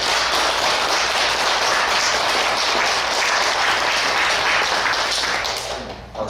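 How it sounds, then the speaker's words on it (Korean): A church congregation applauds with loud, dense, steady clapping that fills the room for about six seconds, then tapers off near the end. "박수도 다 쳐주시고 고맙습니다."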